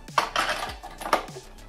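Rechargeable power tool blower battery seated on its charger base, two sharp plasticky clicks about a second apart, close and clear, with faint ringing tails and no talking.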